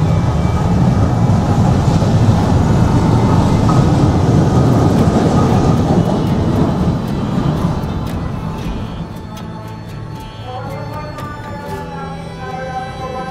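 A Japanese-made electric commuter train arrives at a station in Manila, Philippines, rumbling loudly at first, then slowing with fading wheel noise and squealing brakes as it comes to a stop nearby.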